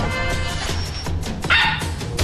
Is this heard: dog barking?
yes